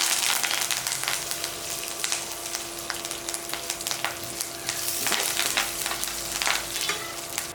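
Curry leaves fry in a pan of spicy Madurai- or Kongu-style chicken gravy, a loud continuous sizzle with crackling pops and occasional stirring scrapes.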